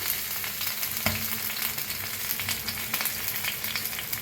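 Fish fries in a pan with a continuous close sizzle and crackle, with a single sharp knock early on and small popping bursts throughout.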